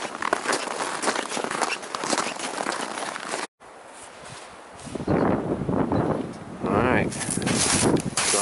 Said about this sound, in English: It is a little windy this morning.